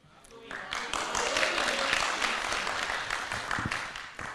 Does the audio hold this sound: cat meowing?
no